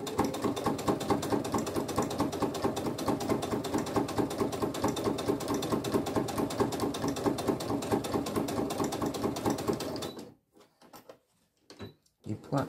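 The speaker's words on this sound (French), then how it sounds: "Et point arrière pour terminer la surpiqûre" A sewing machine backstitches while finishing the topstitching on a flat zippered purse, running fast and steadily with even rapid stitching clatter for about ten seconds. It then stops, leaving a few quiet clicks and handling noises.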